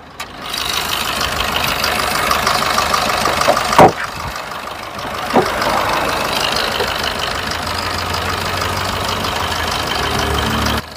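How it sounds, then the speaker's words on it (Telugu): A Maruti Suzuki Swift Dzire taxi engine idles with a steady, close mechanical rumble, broken by two brief thumps partway through, and no one speaks. "ఒకసారి ఇంజన్ సౌండ్ కూడా చూసుకోవచ్చు"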